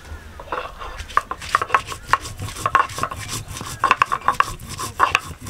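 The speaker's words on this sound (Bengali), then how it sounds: "এখন আমি শুকনো মরিচটা বেটে নেব।" Dried red chilies being ground on a traditional grinding stone, a repeated rough scraping and knocking that arrives in uneven bursts, fairly close and moderately loud, with no voices.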